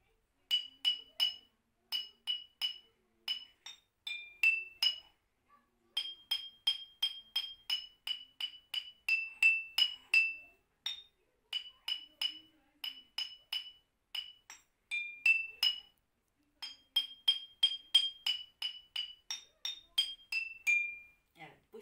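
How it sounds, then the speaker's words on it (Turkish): Drinking glasses tuned to a do-re-mi scale are tapped one note at a time to play a New Year song, a bright, clear tinkling melody in quick phrases with short pauses between them. "İstediğiniz şarkıyı bu şekilde bardakları kullanarak eşlik edebilirsiniz."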